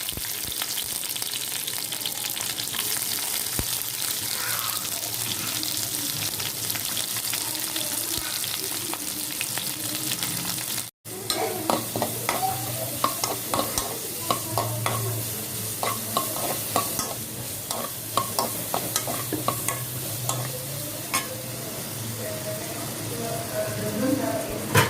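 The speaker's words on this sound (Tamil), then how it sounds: "ஒரு வாணலில் எண்ணெய் ஊற்றிட்டு பிரியாணி இலை, பச்சை மிளகா சேர்த்துக்கணும். அதுக்கப்புறம் அந்த கியூபாக கட்டி வச்சு வெங்காயமும் குடமிளகாயும் சேர்த்துக்கணும்." Cubed onions and capsicum stir-fry in hot oil in a kadai with bay leaf and green chillies, a constant close sizzle. After a brief cut midway, a spoon clatters and scrapes repeatedly against the pan.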